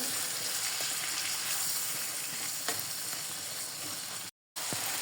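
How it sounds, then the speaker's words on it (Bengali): Shrimp and spices fry in a pan as they are stirred, a steady close sizzle with occasional scrapes, then a brief total dropout before the frying sound resumes. "এখন মশলাটা ভালোভাবে নেড়ে চেড়ে মিশিয়ে নিচ্ছি চিংড়ি মাছটার সাথে"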